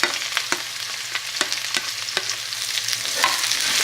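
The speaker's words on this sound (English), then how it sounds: "fry our spices along with" Spices frying with onions, ginger, garlic and green chilies for a Balti chicken curry: a steady close sizzle broken by the scraping clacks of a stirring utensil, rising slightly toward the end, with no talk.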